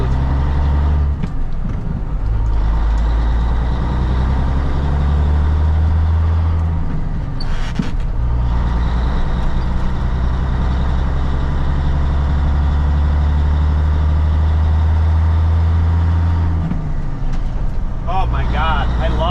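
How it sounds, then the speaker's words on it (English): A cabover truck fitted with a swapped 13-speed shifter drives along, its loud, steady low engine drone filling the cab and dipping briefly as gears change, with occasional voices over it. "Somebody will be happy with the way this truck drives in shifts and stuff like that"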